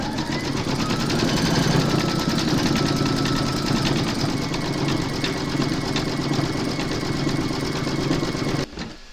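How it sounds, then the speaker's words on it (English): An embroidery machine stitches a striped candy cane design with a satin stitch border, a loud, steady mechanical whir and rapid needle chatter running continuously before stopping abruptly near the end. "Load your matching bobbin and thread colour for the second candy cane into your machine, and then stitch round number 6."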